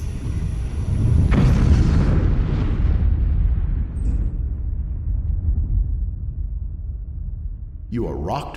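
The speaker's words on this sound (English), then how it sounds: "You are rocked by a loud explosion." A loud explosion in the video game Three Minutes To Eight: a sudden heavy boom followed by a long rumbling decay that fades over several seconds, ending with a brief click.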